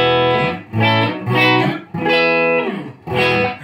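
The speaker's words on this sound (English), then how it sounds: "I'm running through my standard old Boss Katana 50 here, and here's some clean tones." Clean electric guitar chords ring out through a Boss Katana 50 amplifier, several strummed phrases with short pauses between them, close and clear.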